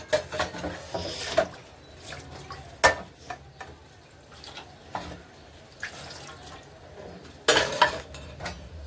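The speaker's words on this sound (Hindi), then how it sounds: "बर्तन धो रही हूँ" Dishes being washed with running water in a home kitchen: intermittent splashes and drips with sharp clinks of utensils and pots, in uneven bursts at close range.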